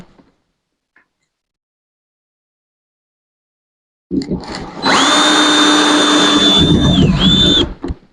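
A power drill drives screws into wood while a DIY handle is fitted to a Solo Stove Bonfire. After a long silence, a short burst gives way to a loud, steady motor whine lasting about three seconds, dipping briefly before stopping.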